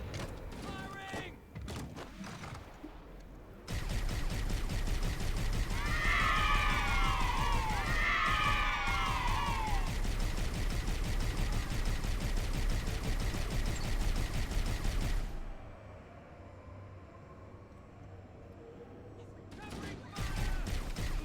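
Halo video game gunfire pours out as one loud, continuous stretch of rapid automatic shots lasting about twelve seconds. Sweeping cries and other game sounds are mixed in, with voices before and after the volley.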